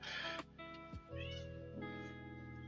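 A cat meows in long, drawn-out cries close by, over a quiet indoor background with no talking.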